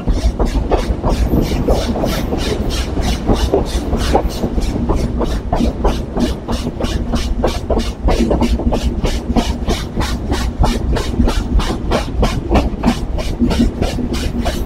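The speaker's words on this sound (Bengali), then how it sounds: "আমাদের রূপসী বাংলা এক্সপ্রেস এই মুহূর্তে থ্রু পাস করে বেরিয়ে যাবে ঝিকরগাছা স্টেশন" The Ruposhi Bangla Express passes through Jhikargacha station at speed, giving a loud, steady, regular clatter of wheels over rail joints with a continuous rumbling roar heard from on board.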